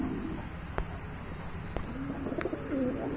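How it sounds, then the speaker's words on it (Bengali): A large, high-quality pair of pigeons at a market coo in low rolling phrases, close by, punctuated by a few sharp clicks and knocks, with no speech over them. "দেখেন এত বড় এত কোয়ালিটি সম্পন্ন এক জোড়া কবুতর"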